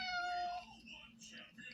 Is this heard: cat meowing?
yes